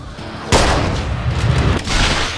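Heavy, sustained gunfire from the Android shooter Unkilled 2, a loud dense burst of automatic shots and booms starting abruptly and continuing with little pause.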